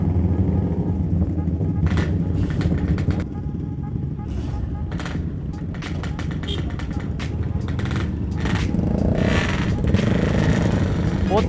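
A large group of motorcycles, among them a Kawasaki ZX6R, rides together on a Sunday morning ride, filling the air with a loud, sustained engine roar, revving bursts and sharp pops, while voices talk over it.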